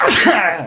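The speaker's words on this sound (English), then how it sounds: "Bless you." A single sharp, close human sneeze, short and loud, standing alone without speech.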